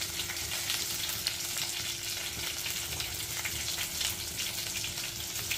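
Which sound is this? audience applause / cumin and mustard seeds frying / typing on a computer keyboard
cumin and mustard seeds frying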